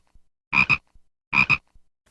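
Two paired croaking calls from a frog near a pond, each a quick double pulse, loud and close against silence, repeated about a second apart.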